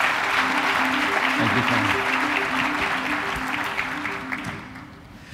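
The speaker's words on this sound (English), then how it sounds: "Let's give him a round of applause, please." Steady applause from a conference audience welcoming a pathology billing consultant, a full wash of clapping that gradually fades while a voice speaks over it.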